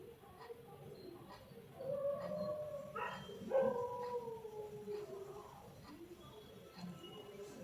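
A dog howls in long, wavering tones at a moderate distance in a home setting, faint and steady over a soft background with a few bird-like coos.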